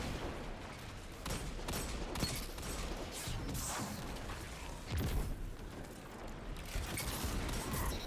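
Repeated gunfire in a Destiny 2 PvP match, a shotgun finishing blasts amid a busy, dense stream of weapon shots and ability bursts that keep going with no pause.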